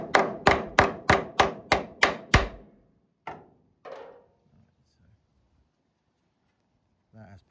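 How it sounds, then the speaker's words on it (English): A hammer belts a threaded bolt on a Bedford RL truck during repair: eight sharp metallic strikes in fast, even succession, then a couple of isolated knocks and a brief bit of speech near the end. "when you belt it with a hammer, you're not going to totally knacker up the thread."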